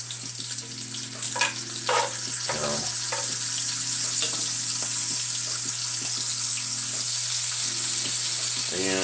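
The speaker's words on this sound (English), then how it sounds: "Good God, Mr. Rhodes, you are cooking up a lot of bacon." Lots of bacon sizzling and frying in a pan, a steady bright crackle throughout with occasional stirring and scraping, and a voice speaking over it at intervals.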